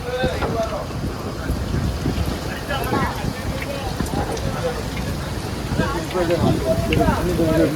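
Heavy rain pours onto a deep-sea stay-net fishing boat out at sea, a steady dense hiss of large drops with wind gusting across the deck, continuous and loud throughout while someone talks over it.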